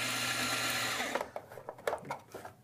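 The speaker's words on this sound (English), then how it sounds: "Grind a little more." A coffee grinder runs steadily on espresso beans for about a second, then cuts out, leaving a few clattering knocks and taps as the grounds chute is cleared.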